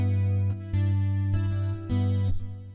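A guitar fingerpicks a repeating partial-chord pattern from Silent Night, sustained low bass notes ringing under bright plucked upper strings, with a few sharp attacks marking each new pluck, close and clear.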